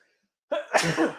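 A single close sneeze bursts out after a moment of silence, sharp at onset and then trailing into a breathy, noisy release, loud and alone with no talking over it.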